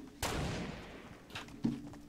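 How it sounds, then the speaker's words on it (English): Gunshots ring out in a Fortnite match: a sharp report followed by a fading tail, then a couple more scattered cracks a moment later, moderately loud with no talk over them. "Fuck, I'm getting shot at."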